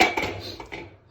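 A frying pan coated with oil is shaken on the stove before an omelette goes in, giving a brief, faint scrape and rattle of metal.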